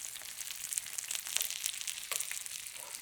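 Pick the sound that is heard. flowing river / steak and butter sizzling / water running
steak and butter sizzling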